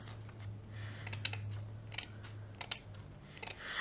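Scissors snipping around the edges of a paper stencil, a few quiet, close, crisp clicks spaced out over a soft low hum.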